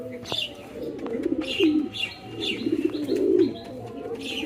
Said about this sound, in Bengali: হেভি ডাক হেভি ডাক গাইছে এটা